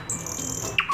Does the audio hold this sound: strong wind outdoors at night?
no